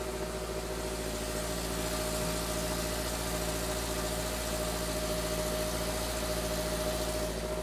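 A Toyota GR86 with JDL UEL equal-length headers and the stock catback idles steadily, a continuous low, thrumming boxer-style burble with a slight uneven pulse, close and constant with no talk.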